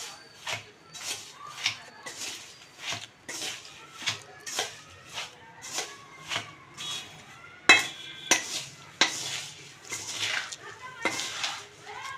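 A spoon scrapes and clinks against a pan as poha is stirred and mixed with sugar, a steady rhythm of metallic strokes about once a second, close and clear, with one sharper clank partway through.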